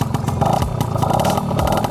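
An old Yamaha Alfa II R motorcycle engine revs close by, rising and falling in a rough, rattling roar that stays loud throughout.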